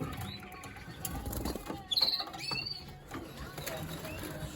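Soft cooing and scattered chirps from pigeons in an enclosed loft shed, with occasional fluttering wings and a few rustling knocks, fairly quiet overall, at the end of breeding season with young birds present.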